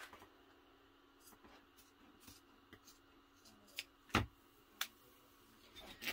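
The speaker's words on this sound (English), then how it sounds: "Now I'm going to grab my vinyl scissors and cut this out here." Quiet, scattered snips of vinyl scissors cutting through a sheet of vinyl, a few sharper clicks standing out against a faint background.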